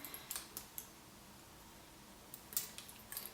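Small scissor snips trimming long bangs at home, a few quick faint cuts near the start and a cluster of sharper snips toward the end, with quiet between.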